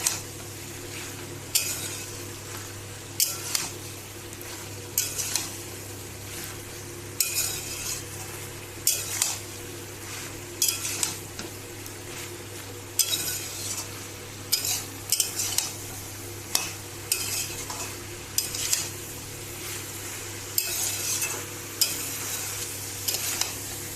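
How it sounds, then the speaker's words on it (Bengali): A spoon stirs and scrapes fried mixed vegetables through spices in a pan, with regular clinking strokes repeating every second or so over a steady low background hum. "এবার আমি এই ভেজে রাখা সবজিগুলো সব দিয়ে দেবো এর মধ্যে। মশলার সঙ্গে ভালো করে মিশিয়ে নেব।"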